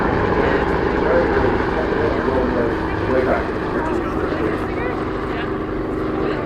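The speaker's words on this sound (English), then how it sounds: "That's the helicopter." Bristol 171 Sycamore helicopter at the Farnborough International Airshow 2018, a loud, steady rotor and engine drone filling the air, with a commentator talking over it.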